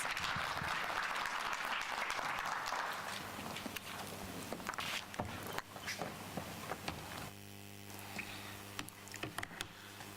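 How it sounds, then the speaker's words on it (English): Applause from the audience at a government launch event, dense broadband clapping that fades and thins into scattered claps, with a low steady hum underneath. "A warm applause, please."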